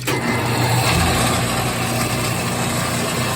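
An automatic saw sharpening machine runs with its coolant on, a steady mechanical hum and whir holding even and fairly loud throughout, with no speech.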